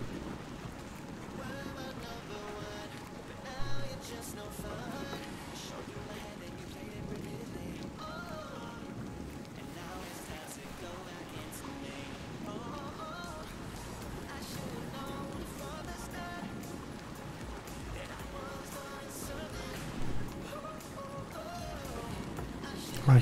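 A boat glides over water in ARK Survival Evolved, giving a steady wash of wind and waves with a few faint knocks, while someone talks throughout.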